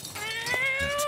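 A cartoon cat meows in South Park: The Fractured But Whole, one short rising and falling cry near the listener with a second fainter mew at the end, alone without talk.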